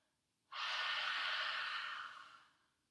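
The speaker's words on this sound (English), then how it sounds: "Big breath in through your nose. Open your mouth." One long, breathy exhale through an open mouth during a yoga practice, close and fairly soft, starting abruptly and trailing off over about two seconds into quiet.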